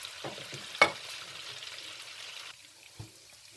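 Tomatoes drop into a sizzling tadka of hot oil for mung daal. A soft, steady fry hiss is broken by a few short, sharp spatters, one louder burst early on and a quieter one near the end.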